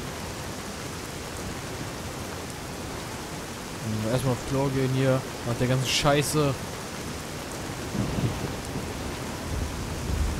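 Steady rain hisses through a thunderstorm in Fallout: New Vegas, with a faint low rumble toward the end and someone speaking briefly over it midway.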